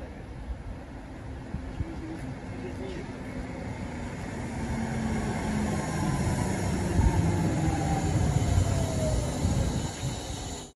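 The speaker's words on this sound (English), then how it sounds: "Right now, train is coming." Train approaching and passing at a station, a rumbling, hissing roar that builds steadily over about ten seconds and stays loud to the end, with voices talking faintly beneath it.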